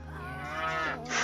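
A cow moos once in the video game Elder Scrolls Adventures: Redguard, a short, fairly quiet low bovine call rising slightly in pitch.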